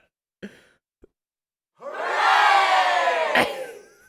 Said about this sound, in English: Yeah, the crowd, live audience.